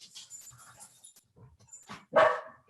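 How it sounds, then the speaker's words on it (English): An older dog, the matriarch of a household, barks once loudly and close after a stretch of faint whimpers and yips in a quiet indoor room. "That's Grandma you're hearing barking"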